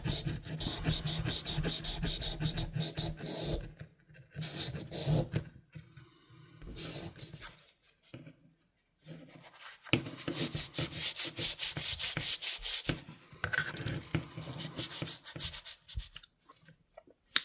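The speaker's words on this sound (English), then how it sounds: "I'm just going to go through it with 1000" Rust is sanded off the steel blade of a Sheffield-made Richards knife with 1000-grit paper, a close, steady rasping rub in long back-and-forth strokes, broken by short pauses and quieter passes.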